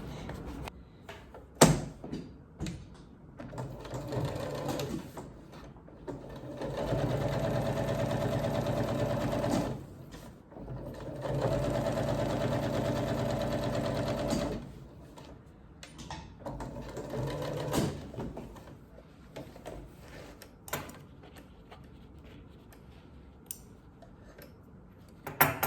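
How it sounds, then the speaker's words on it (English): A sewing machine stitches fabric during a repair, running in two long steady bursts of rapid needle chatter with short starts and stops and quiet handling clicks in between. "Got to make sure there's no fabric stuffed underneath it that I'm sewing together."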